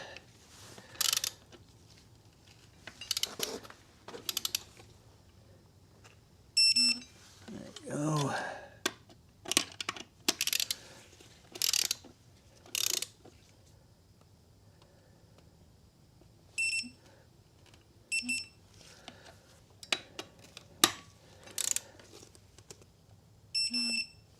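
A torque wrench on a 2012 Ford Focus dual clutch clicks in short sharp bursts as bolts are drawn to 19 newton meters, spaced between ratcheting and quiet pauses, fairly close.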